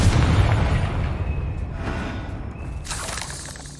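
A Confringo fire-spell blast in the Hogwarts Legacy video game opens with a loud, booming burst that rumbles and slowly fades over a few seconds, followed by a softer hiss.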